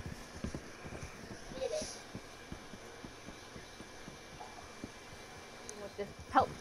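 Horse hooves clip-clop in Red Dead Redemption 2, a steady, soft, even rhythm of muffled thuds throughout, fairly faint under a low hum with occasional faint other sounds.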